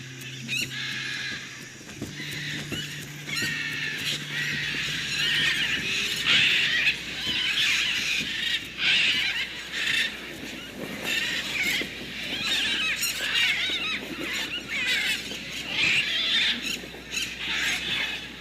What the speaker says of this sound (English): great flocks of macaws and parrots arrive for an unlikely meal